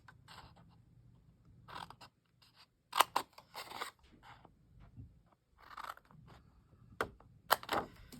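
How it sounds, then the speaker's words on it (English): Scissors snip through cardstock along a scored line, a series of short crisp cuts in bursts with pauses between, close and fairly quiet with no talk. "Then you're going to take your scissors and you're going to cut up straight on that line till it meets the score on both sides."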